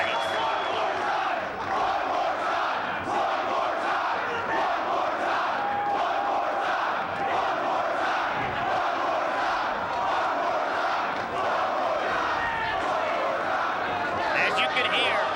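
A wrestling crowd at an ECW event roars and cheers continuously, a dense, loud wash of shouting voices across the whole span, with chants and yells rising through it.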